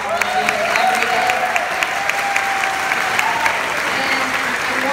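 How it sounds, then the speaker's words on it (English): Loud, sustained applause from a crowd at a political campaign event in Traverse City honoring organizers, dense clapping with a few cheers and faint voices mixed in, steady from start to finish. "So will you just please give them a round of applause for all they do every day."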